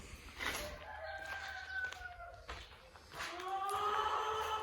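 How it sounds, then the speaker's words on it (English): Several chickens cluck and crow nearby in drawn-out, overlapping calls against a soft outdoor background. "Here's Mom's chickens."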